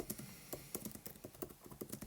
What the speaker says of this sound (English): So you just simply start typing in the name.